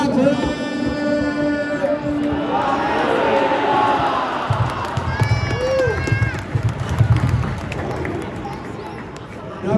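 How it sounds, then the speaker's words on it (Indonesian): A stadium crowd at GBLA cheers and applauds for football player David Da Silva, a rolling mass roar with scattered whistles and shouts that swells and stays loud throughout. "Saya mohon semuanya berikan tepuk tangan yang meriah untuk Dato"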